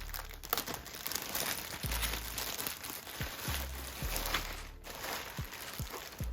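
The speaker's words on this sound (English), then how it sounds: "And take the plastic off." Plastic wrapping crinkles and tears as it is pulled off a newly unboxed UE Hyperboom portable speaker, a steady close rustling with several soft thumps underneath.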